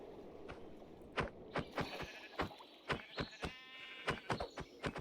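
Sheep in the Minecraft video game bleat repeatedly in short, sharp bursts, a rapid series of calls layered over one another at moderate loudness with no talking.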